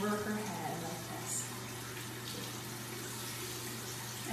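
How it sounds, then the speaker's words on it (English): Water streams steadily over a baby's head during a bath, a continuous close splashing flow, with a soft voice briefly at the start. "I'm going to just run that water over her head like this"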